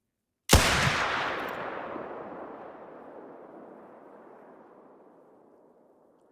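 A single pistol gunshot in theHunter: Call of the Wild cracks sharply, then a long rolling echo decays slowly over several seconds into quiet.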